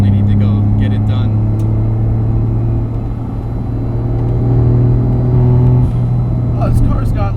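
Cabin sound of a modified 1995 Mitsubishi 3000GT VR4 with a turbo, driving along with a steady low engine drone and road rumble, swelling slightly as it pulls, while people talk over it.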